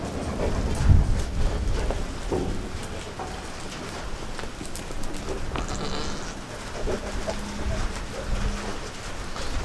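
Steady rain patters over a broad, noisy wash of sound, with occasional bleating goats sheltering nearby and a brief low thump early on.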